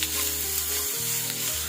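Carrot and onion masala for a Kerala carrot stir-fry sizzles in a hot pan while being stirred, a steady close frying hiss with no talk.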